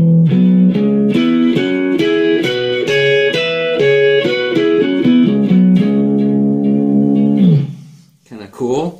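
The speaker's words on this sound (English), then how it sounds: "now if you play them as double stops, they sound like this" Distorted electric guitar playing fourths as double stops, a sequence of sustained two-note chords shifting step by step, ending on a held chord that fades into a brief flurry of notes.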